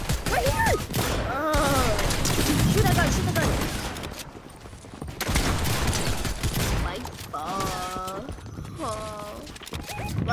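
Rapid bursts of video-game gunfire from Fortnite, loud and dense, repeated in volleys across the clip amid excited shouting from players.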